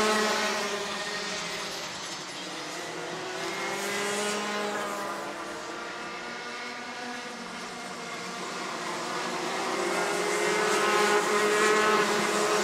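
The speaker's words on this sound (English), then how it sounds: "his kart sounds so nice" Rotax Max 125cc racing kart engines scream continuously at a kart race, a loud sustained two-stroke whine rising and falling as the karts pass.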